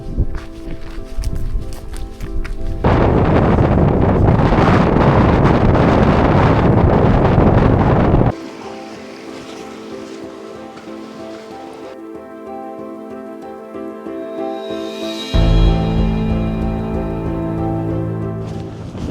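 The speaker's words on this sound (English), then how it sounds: "Showers, gusts, and a little bit of sun every now and again" Wind gusts and rain showers on the Kinder Scout skyline, buffeting the microphone in loud, uneven rushes that come and go in waves, with quieter patches between the stronger blasts.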